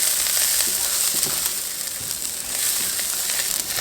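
Broccolini and garlic frying in a pan, a steady close sizzle with light crackling throughout, no talking over it.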